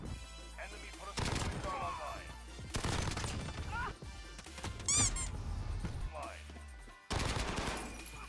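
Bizon submachine gun in Modern Warfare 3 firing in dense automatic bursts, loud and close, broken by short pauses, with game effects and voices mixed in.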